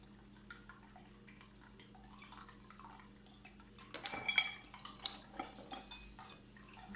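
A fork mashes warm, soft boiled yuca in a bowl, giving faint scraping and a cluster of light clinks against the dish, quiet at first and then busier toward the end.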